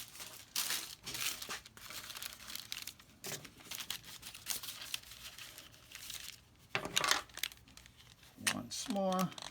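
Wax paper crinkles and rustles in uneven bursts close by while someone talks, with a sharper crackle near the end. Work on a Chevrolet badge.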